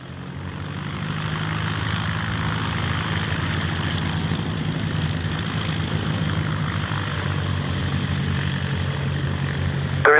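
A de Havilland Chipmunk WD373 propeller plane takes off at Leicester Airport, its engine drone rising steadily to a loud, continuous roar with no talk.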